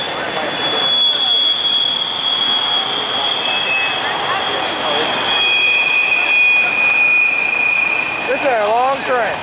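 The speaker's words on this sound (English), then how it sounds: "This is a long train." A long train keeps rolling past with a sustained high metallic wheel squeal over a dense, loud rumble of cars on the rails, and a voice is briefly heard near the end.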